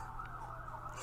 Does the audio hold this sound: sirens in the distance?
yes